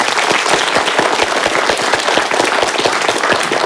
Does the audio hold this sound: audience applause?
yes